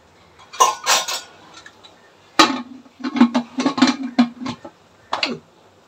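A pressure cooker lid and metal kitchen pots are handled, giving a series of sharp clanks and clinks of varying loudness, some in quick succession, with short pauses between.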